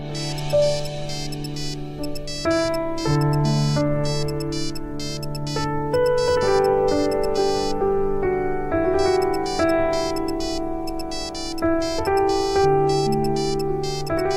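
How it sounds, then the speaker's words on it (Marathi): A mobile phone ringtone plays a loud, repeating melodic tune for about fourteen seconds during an indoor drama scene, with the call left unanswered and no talking over it. "फोन उचला गौरीजी."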